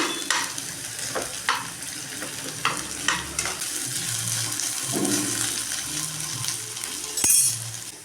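Potatoes sautéing in oil in a pan for a Spanish omelette, a steady close sizzle broken by repeated scraping and stirring clinks from a utensil, with a sharper clink near the end.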